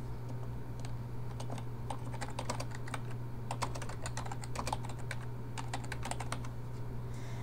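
Steady computer keyboard typing, with close, rapid clicking keystrokes in quick runs and short pauses over a low electrical hum.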